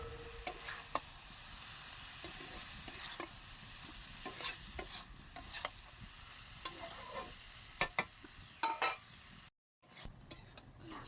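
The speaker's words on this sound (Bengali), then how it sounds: "এবার সব কিছু মিক্সড করে নেব ভালোভাবে।" Bamboo shoot curry stirred in a hot pan, with repeated close scrapes and clinks of a spoon against the metal over a soft, continuous sizzle and a brief gap of silence near the end.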